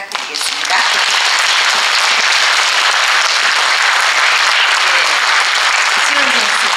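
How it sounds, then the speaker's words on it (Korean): A concert audience applauds steadily as a pianist is welcomed to the stage, with dense, even clapping that swells quickly and holds loud and close throughout. "큰 박수 부탁드리겠습니다"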